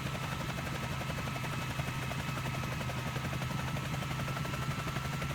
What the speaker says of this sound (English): it is a very analog helicopter